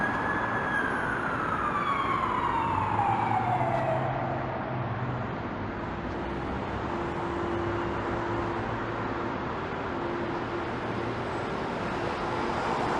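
An ambulance siren wails past steadily over continuous traffic roar on Yonge Street in Toronto, its pitch sliding downward as it moves away.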